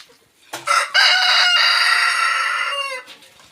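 A single rooster crow rings out close and loud, one sustained call lasting a few seconds, then fades into quiet.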